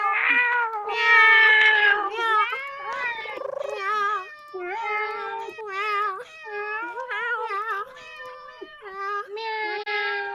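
Cast members imitate cat meows with their voices, a long chain of drawn-out, wavering mews and caterwauls that overlap and trade off for about ten seconds.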